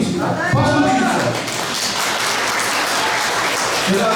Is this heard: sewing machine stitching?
no